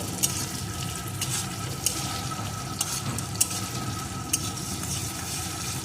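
Onion and tomato with a little sugar stirred in a frying pan for a mustard crab dish: a steady soft sizzle with sharp spatula taps and scrapes against the pan every second or so, no talking.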